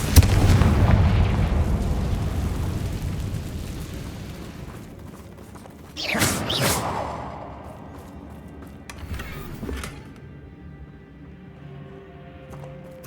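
Spell-blasts from the Confringo fire spell in the Hogwarts Legacy video game, fired at Ranrock's loyalists: a heavy rumbling blast at the start fades off, then a sharp burst around the middle and a smaller one after, with game music underneath.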